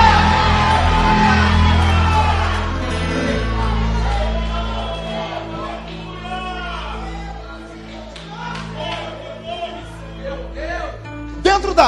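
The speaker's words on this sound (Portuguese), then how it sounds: "Posso ouvir um grito de glória a Deus aquele tamanho?" A church congregation shouts praise to God after a preacher's call, a loud swell of overlapping voices and whoops under music, fading gradually over several seconds with some scattered yells at the end.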